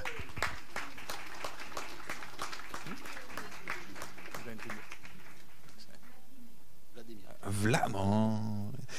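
Applause for a visiting official, the president of the European Shooting Confederation, at a shooting World Cup air rifle final in Chateauroux, sparse claps crackling steadily for several seconds, fading out before a voice speaks near the end.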